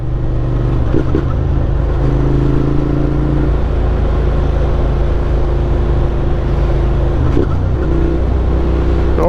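A motorcycle accelerates hard through a pull, its engine droning loud and steady with a rising then resettling pitch as gears shift, heard close from the rider's position over constant wind rumble.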